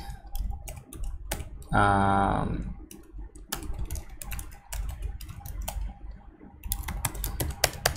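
Keys on a computer keyboard clatter in quick irregular bursts while text is being written, close and fairly loud, with one brief sustained mechanical whir partway through.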